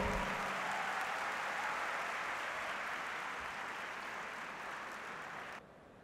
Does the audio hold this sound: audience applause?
yes